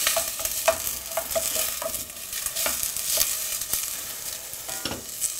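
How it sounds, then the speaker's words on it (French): Onions sweating and sizzling in a pan for pork and veal meatballs in tomato and pepper sauce, a steady close crackle dotted with scraping stirs of a utensil, with no talk. "Oh, ça gratte ce petit son d'oignon là."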